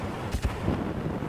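Video game gunfire, a pair of quick booming shots close together followed by a softer low rumble, loud over a steady background hiss, with no speech.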